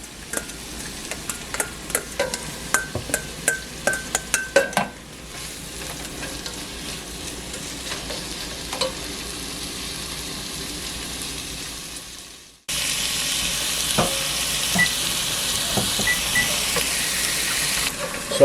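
Leeks sautéing in a pan for potato leek soup give a steady sizzle; sharp clicks and stirring taps come first, then the frying carries on alone and turns louder and brighter near the end.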